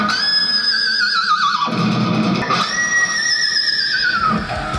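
An electric guitar played with a whammy bar screams with bent, wavering harmonics, sliding up and down like a horse's whinny, loud and distorted.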